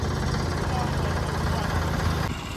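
A mud mower riding tractor's small engine runs steadily at close range, a low rumbling idle with vibration, dropping slightly at the end.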